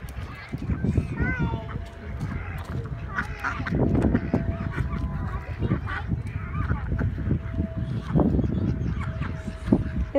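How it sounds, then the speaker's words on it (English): Ducks at a park being fed bread: repeated honks and quacks over continuous background chatter, with people talking nearby throughout. "Bubba, get a piece of bread so the ducks will come"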